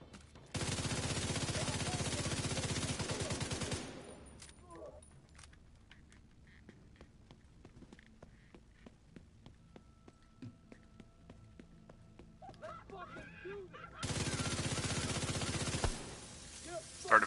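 Bursts of rapid automatic gunfire in the video game Division 2, two long dense volleys at the start and end, with scattered game sounds and faint effects between them.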